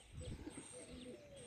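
Soft, low show pigeon coos murmur close by in a short burst in a backyard, with faint chirps in the background.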